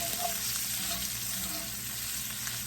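Sausage frying in melted butter in a pan, a steady close sizzle and crackle with small pops running throughout, no talking.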